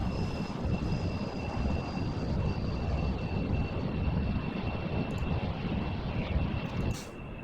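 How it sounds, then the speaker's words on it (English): Spacecraft engines firing on a single-stage-to-orbit craft in Kerbal Space Program: a loud, steady, dense roar with a faint high whine, holding unbroken throughout before easing slightly at the end. "now just engaging our carborundrum drives, which should hopefully, you know, help us"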